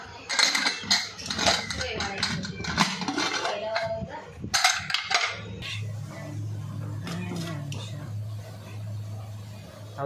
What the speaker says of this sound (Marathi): आता अख्खे मसाले टाकतो कुकरमध्ये